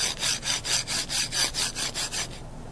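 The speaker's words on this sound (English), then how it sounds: "here's a standard linear bearing, and here's the nylon bearing" A linear bearing, a standard metal one compared with a nylon one, slides back and forth along a rod in about ten regular strokes, producing a close, rhythmic scraping rasp that stops near the end.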